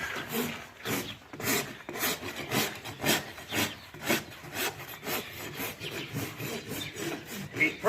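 A farrier's rasp files the trimmed edge of a horse's hoof in steady, rhythmic back-and-forth strokes, close up, loud and gritty, with no talking.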